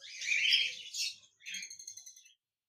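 A pair of lutino Fischer's lovebirds chirps close by, a dense burst of high twittering followed by a short run of rapid, evenly spaced tweets, then quiet.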